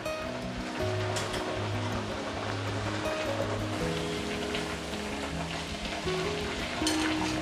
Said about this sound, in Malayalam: പത്തിരി ഇട്ട് ഒരല്പ സമയം കഴിയുമ്പോഴേക്കും എണ്ണയ്ക്ക് നല്ല ചൂടുണ്ടെങ്കിൽ അത് നന്നായിട്ട് മുകളിലേക്ക് പൊങ്ങി വരും